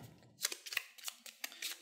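Cards being shuffled by hand at a Dungeon Petz board game session, a quiet run of short papery riffles and snaps across about two seconds, close and soft with no talk.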